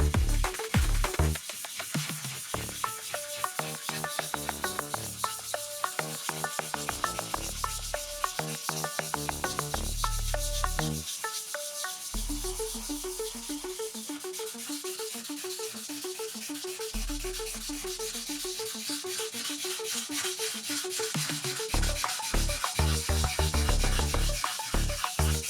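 An aluminum 3D printer bed for a Voron Trident is sanded by hand, close and loud, with steady rapid back-and-forth scrubbing that keeps going with only short breaks.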